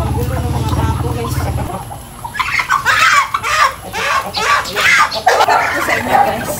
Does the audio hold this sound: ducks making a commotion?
yes